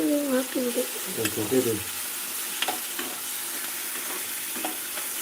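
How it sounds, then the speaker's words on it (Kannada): Tomato frying in a pan for puliyogare, an even close sizzle that runs throughout, with a voice speaking briefly at the start and a few light stirring taps. "ಟೊಮೆಟೊ ಫುಲ್ ಮೆತ್ತಗೆ ಆಗ್ಬೇಕಾಯ್ತಾ ಎಷ್ಟೊತ್ತವರೆಗೂ ಫ್ರೈ ಮಾಡಬೇಕು"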